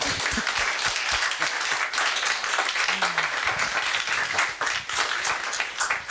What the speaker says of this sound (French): est-ce que vous pouvez vous applaudir un petit peu?